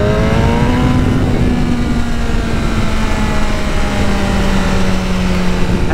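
A BMW M1000RR superbike engine revs hard and steadily, its loud, droning exhaust tone rising and sliding in pitch as it pulls through the gears, close by with no voices.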